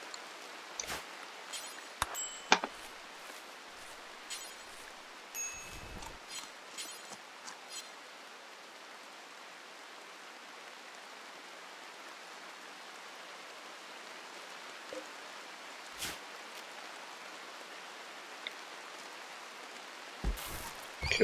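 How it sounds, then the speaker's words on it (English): Rain falls in the video game RimWorld as a soft, steady hiss that stays faint throughout, with a few brief clicks and interface sounds scattered over it and no speech. "Sleeping in the rain."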